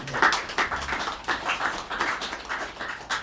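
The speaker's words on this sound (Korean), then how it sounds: "운석 교수님이 지금부터 강연을 하시는데 뜨거운 박수로 시작하겠습니다" An audience at a lecture hall gives a short round of scattered clapping to welcome the lecturer, with uneven hand claps at moderate loudness.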